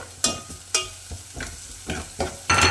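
Crushed garlic goes into softened onions frying in a pan, with about six rhythmic scraping stir strokes of a spoon over a low, steady sizzle and nobody speaking.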